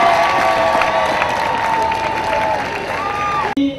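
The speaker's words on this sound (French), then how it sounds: "que nous applaudissons" A church congregation in a parish claps together in sustained, dense applause, loud and steady with some voices mixed in, then cuts off abruptly near the end.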